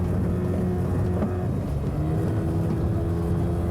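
A small aluminium dinghy's outboard engine drones steadily and loudly throughout a race, a low continuous motor rumble with no talking.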